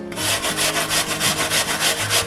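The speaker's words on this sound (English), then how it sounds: "Your peeled apple. I'm gonna grate this." A peeled apple rubbed down the large holes of a box grater, giving a quick, steady run of rasping strokes, about five per second, close and fairly loud with no talking.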